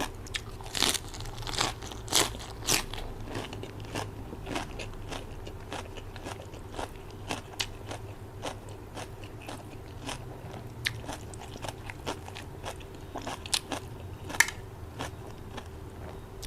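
Crisp, crackly bites and crunches from a crunchy fried Thai snack eaten alongside spicy papaya salad, repeating steadily and close up over a low background hum, with no talking.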